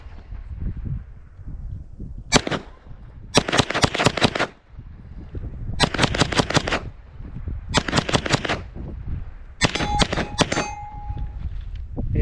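A Stribog SP9A3 9mm carbine fires outdoors with an unzeroed red dot, in five quick bursts of several sharp, loud shots each, separated by short pauses.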